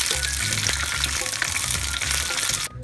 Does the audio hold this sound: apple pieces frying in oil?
yes